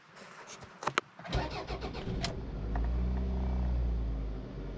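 Car engine cranking and starting, then settling into a steady low idle; the car has a lit check engine light with lean codes P0171 and P0174. A few sharp clicks come before the crank, and no one talks.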